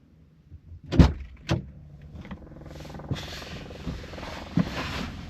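A 2014 Nissan Frontier pickup sets off after a transmission fluid change: a couple of sharp thumps like a door closing, then a low engine hum building steadily as the truck pulls away.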